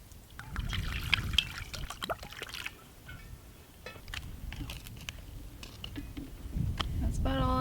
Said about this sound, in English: So I use a funnel, and then this is rainwater that we collected.